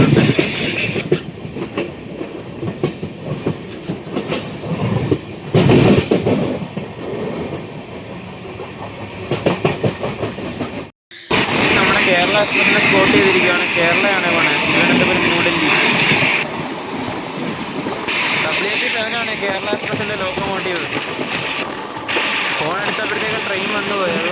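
The Ernakulam–Velankanni Express train runs on past Thiruvalla in second class, with loud rumbling and rhythmic wheel clatter throughout, a sharp brief gap near the middle, and voices talking over the noise.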